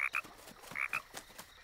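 Cartoon frogs croaking in quick paired bursts, two short groups of bright croaks repeated close and clear against a quiet background.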